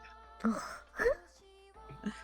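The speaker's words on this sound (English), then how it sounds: "I was just clearing my throat" A person clears their throat in a few short, rough bursts, close and fairly quiet, with a moaning, groaning quality.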